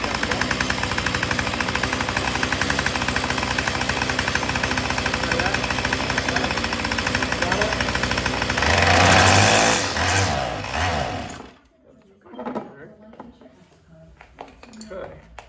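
A Craftsman weedwhacker's small two-stroke engine screams at full throttle with a steady, buzzing high-pitched drone, swelling briefly before cutting out abruptly; afterward only scattered handling noises remain.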